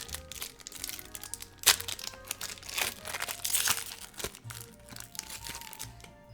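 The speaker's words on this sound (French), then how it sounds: "Et on va s'ouvrir ces boosters" Lorcana booster packs, chapter 6 La Mer Azurite, are torn open, their foil wrappers crinkling and crackling continuously at close range with occasional sharper tears, with no talking.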